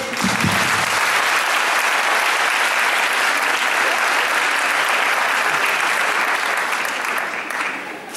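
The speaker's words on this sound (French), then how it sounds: "il faut vraiment les applaudir" Sustained, even applause from an audience at an evening breast cancer benefit conference in Roubaix, heard as a loud, dense wash of clapping that continues steadily and tapers slightly at the end.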